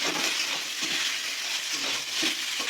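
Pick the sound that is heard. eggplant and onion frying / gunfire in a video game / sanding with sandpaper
eggplant and onion frying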